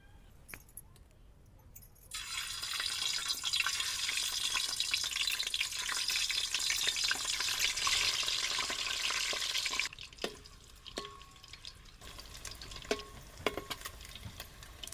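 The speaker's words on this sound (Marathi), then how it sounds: "आता याच तेलामध्ये आपल्याला अंडे तळून घ्यायचे." Eggs frying in oil for egg dum biryani: a loud, bright sizzle bursts in after a quiet start, holds steadily for several seconds, then cuts off, leaving scattered faint clinks and clatters.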